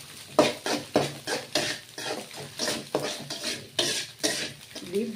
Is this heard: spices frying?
yes